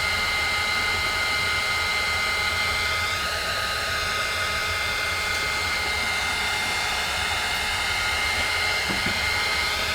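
A heat tool blows steadily while melting embossing powder, producing a continuous loud, airy whoosh that holds without pause for the whole stretch.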